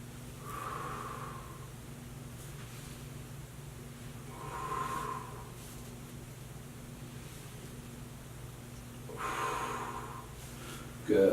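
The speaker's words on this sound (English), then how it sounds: "Breathe and hold here." Slow, deep breaths during a seated yoga twist, three soft airy exhalations spaced a few seconds apart over a steady low hum, close and gentle.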